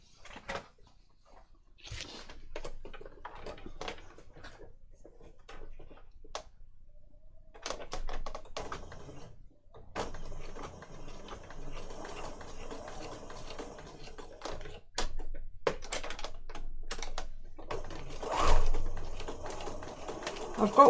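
A sewing machine stitches around the pages of a junk journal made from an altered Little Golden Book, giving quick bursts of close mechanical whirring and clatter with brief pauses, and someone talking at times.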